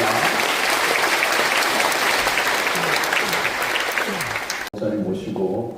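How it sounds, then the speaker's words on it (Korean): Full congregational applause at a Korean church installation ceremony for a new senior pastor, loud and steady, then cutting off abruptly as a voice begins speaking. "우리 홍 목사님과 윤 목사님을 위해서 다시 한번 축하 박수를 드리겠습니다"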